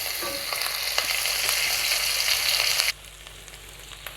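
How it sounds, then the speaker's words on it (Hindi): Garlic and ginger sauté in a hot pan with a loud, crackling sizzle and occasional stirring clicks, then the frying noise abruptly drops to a quieter hiss. "इसको मैं सौते कर लेती हूँ।"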